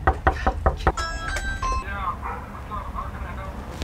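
Several sharp knocks on a door in quick succession, then a ringing doorbell chime during a ding dong ditch prank, followed by hushed voices.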